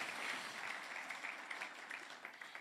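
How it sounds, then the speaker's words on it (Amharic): A church congregation claps continuously at a moderate distance, a dense, even wash of hand claps that holds steady and eases slightly toward the end. "አጨብጭቡለት ለጌታ"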